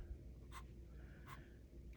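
A pencil scratches on paper while Zentangle-style hearts are sketched, with three short faint strokes spaced roughly evenly over quiet room tone.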